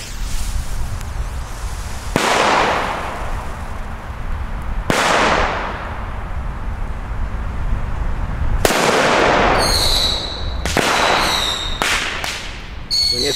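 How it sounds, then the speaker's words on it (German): Funke Pirat P1 firecrackers set off outdoors, with a series of very loud, sharp bangs spaced a few seconds apart, the last ones coming in quick succession, each leaving a decaying rumble. "Ihr werdet gleich sehen, wie wahnsinnig laut diese Teile sind und wie druckvoll."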